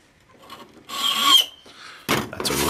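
A sharp file rasps notches into a key blank: short scraping strokes with a brief squeal, then a louder, harsher stroke at the end, all close up with no talking.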